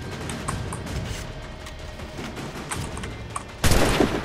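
Rapid bursts of gunfire in Assassin's Creed III crackle over a busy, noisy background, ending in a louder burst of sustained shooting.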